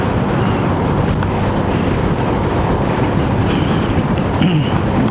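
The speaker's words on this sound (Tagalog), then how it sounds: "Malakas ng hangin sa dagat." Strong wind roaring steadily by the sea while riding a motorcycle through Plaridel, Quezon, a loud, continuous broadband rush with no pauses across the whole stretch.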